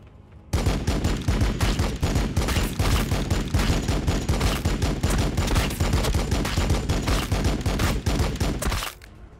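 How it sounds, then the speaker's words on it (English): Dense, sustained gunfire from a Warhammer 40,000: Battlesector battle against Genestealer broods, loud rapid volleys hammering continuously for about nine seconds, then cutting off abruptly. "You shoot the hell out of him."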